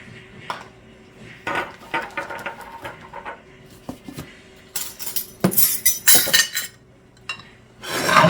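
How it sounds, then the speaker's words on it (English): Potatoes tipped and arranged into a baking tray, a run of close clattering thuds and scraping knocks against the metal, with bursts of louder rattling. "we're going to put the potatoes into our baking tray"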